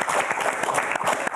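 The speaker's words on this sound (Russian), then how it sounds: "громкими аплодисментами" A crowd at an evening Border Guards Day event in Gomel breaks into loud applause, a dense, continuous clapping that fills the space without pause.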